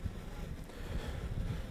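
Wind blows outdoors during a flight test of a Yuneec Mantis Q drone, buffeting the microphone in low gusty rumbles, fairly faint and with no talk.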